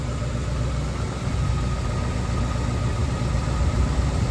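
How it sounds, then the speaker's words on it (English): A Ford Thunderbird's 390 V8 idles steadily with a small vacuum leak at the carburetor, a continuous low rumble with even mechanical texture and no talk. "That is the sound of a very healthy 390 V8."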